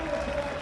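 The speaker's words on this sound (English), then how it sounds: "The applause of the crowd round this finishing straight." A crowd claps around the finishing straight of a city road race, a brief burst of steady applause with a commentator's voice over it.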